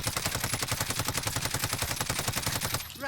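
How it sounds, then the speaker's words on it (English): Rapid automatic gunfire from a controlled full-auto spray in Call of Duty: Modern Warfare, loud and close, rattling in an even fast rhythm for nearly three seconds before stopping abruptly. "Every single bullet I shot should be within the target."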